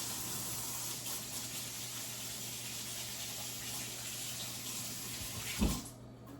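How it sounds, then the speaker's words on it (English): A kitchen tap runs steadily in a faint, even stream while hands are washed under it, ending with a short thump before the flow stops abruptly, with no talking. "Let me wash my hands."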